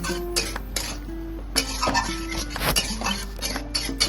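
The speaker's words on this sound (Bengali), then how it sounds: "পোস্তটা একটু নাড়াচাড়া করে নিতে হবে" Poppy seed paste being stirred in a pan with a utensil, giving repeated scraping and clinking strokes at an uneven rhythm, close and fairly loud over a low hum.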